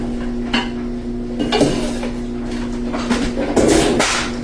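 A Rock Crock Everyday Pan and a Dutch oven being handled in a kitchen, with a few knocks and clinks of cookware and lids over a steady background hum.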